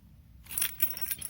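Keys jangle inside a leather Coach key case, a quiet, close metallic rattling in short clinking bursts after a brief silence.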